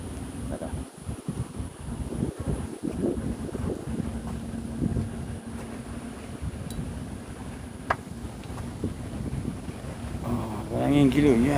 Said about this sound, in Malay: Angin gila.